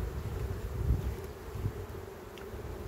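Honeybees hum steadily and close up at an open hive during a colony inspection, a dense, continuous low buzz that swells slightly and stays unbroken, with no talk.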